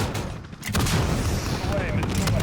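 Heavy air-support guns pound away in Call of Duty: Modern Warfare, a loud, sustained barrage of booming fire that dips briefly, then rolls on continuously with a dense low rumble.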